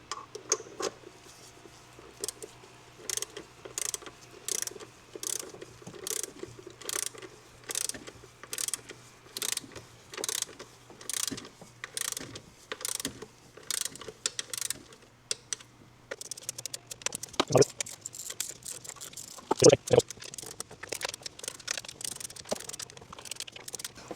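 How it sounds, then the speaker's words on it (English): A torque wrench ratchets in repeated short clicking bursts while tightening the valve rocker cover bolts on a Nissan X-Trail T30, followed by a few sharper metallic clicks near the end. "I've got this torque wrench set to 18 inch-pounds. I'm going to go through and do the first tightening"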